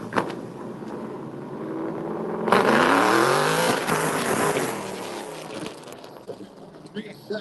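A Chevy Camaro launching down a drag strip lane, its engine roaring loud and close before easing into a long fading drone, with a crowd and announcer talking underneath.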